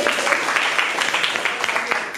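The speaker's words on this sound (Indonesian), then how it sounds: "tepuk tangan dulu" Classroom applause as a class of students claps together at a teacher's prompt during a semester review lesson, a steady dense patter of hand claps lasting about two seconds with faint voices mixed in.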